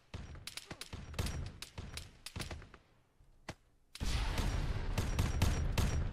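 Sharp, bright bursts of plasma gun fire in the Arma 3 Warhammer 40k mod, first in scattered single and double shots with gaps, then a louder sustained volley near the end.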